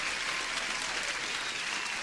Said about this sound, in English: Whoa! Applause here.